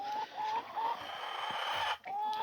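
Hens cluck in short repeated bursts close by, with a steady rural background hum and no talking.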